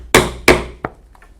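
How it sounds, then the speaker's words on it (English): A 1/8 inch hand punch struck into a leather belt to make rivet holes: two sharp loud hammer blows in quick succession, then a lighter tap and faint settling knocks, close up with no speech. "now we will punch holes for the rivets using a 1/8 inch punch"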